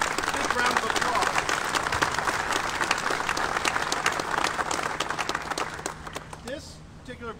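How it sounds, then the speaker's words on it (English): A crowd at a political rally applauds in a sustained wave of clapping that stays full for several seconds before tapering off, and a voice speaks near the end. "Give him a big round of applause."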